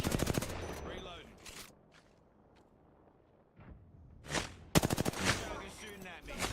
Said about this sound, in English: Target shooting at me.